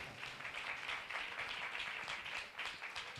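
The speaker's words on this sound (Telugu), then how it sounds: "గట్టిగా చప్పట్లు కొడదాం" A church congregation at a Christmas service claps together, a faint, distant, steady patter of many hands that keeps going without a break and with no voices over it.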